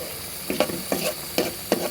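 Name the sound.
sautéing food in a pan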